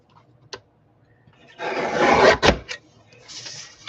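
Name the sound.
cutting 110-pound cardstock down to 3 inches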